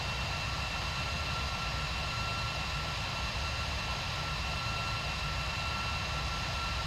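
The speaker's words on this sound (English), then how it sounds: "Plane in the distance." Aircraft in Microsoft Flight Simulator X, a steady engine drone with a constant whine on top, even and unbroken throughout.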